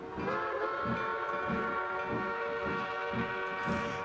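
A narrow gauge steam locomotive whistle in the Trainz simulator sounds as one long, steady multi-tone blast, loud and close, lasting the whole moment over a low rumbling train.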